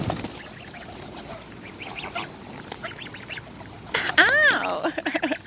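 Wild geese and coots call close by while being hand-fed outdoors, with scattered soft calls giving way to loud, rising honks in the final seconds.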